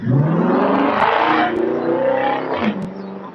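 A loud car engine revs and roars close by, rising and falling in pitch as it passes over about three seconds.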